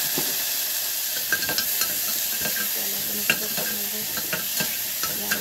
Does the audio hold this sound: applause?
no